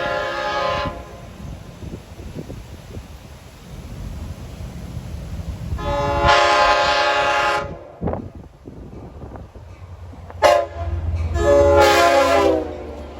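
LIRR Central Branch shuttle train approaching and passing, several loud blasts of its horn between rumbling wheels, growing close and loud, no talking.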